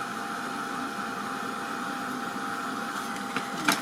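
A handheld heat tool dries a coloured craft tag with a steady blowing whir that holds even throughout, near and fairly loud, with a couple of small knocks near the end.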